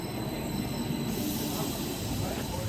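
Regional train rumbling through an underground station beneath Berlin's airport, its wheels squealing in a steady high-pitched whine over continuous low rail noise, loud and close throughout.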